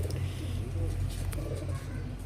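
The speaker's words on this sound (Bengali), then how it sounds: "পায়রা তো উড়ে নাই এখনো, বাচ্চা পায়রা।" Young pigeons of the Pakistani Rampuri breed in a loft give low, soft cooing under a continuous hum and murmuring voices nearby, with a few faint flutters.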